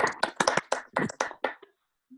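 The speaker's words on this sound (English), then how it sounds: "can we give Nick a big round of applause?" Short burst of clapping for a seventh-grade student honored for citizenship, a handful of sharp irregular claps over about a second and a half, fairly close, then silence with a faint low thump.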